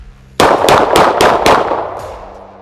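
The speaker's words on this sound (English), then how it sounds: "So let's shoot a couple more here from concealment." Five rapid, sharp revolver shots from a Smith and Wesson Model 442 .38 Special snubnose, fired from concealment in a quick evenly spaced string. A fainter sixth crack follows, and the reports ring out into a fading echo.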